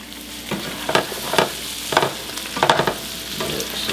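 Brussels sprouts sizzle and brown in a hot pan, a steady frying hiss broken by several scraping stirs at irregular intervals, close and moderately loud with no talk.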